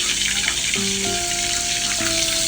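Flour-coated pieces of loitta (Bombay duck) fish frying in oil: a loud, steady, broadband sizzle with a few faint tonal chirps over it, continuous and close.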